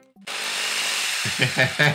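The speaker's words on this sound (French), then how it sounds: "j'ai une putain de perceuse. Du coup on va forer l'oignon" A power drill boring into a whole onion at home on a Saturday night gives a loud, steady whirring grind that starts abruptly, then a few rough, bumping surges as the bit chews through.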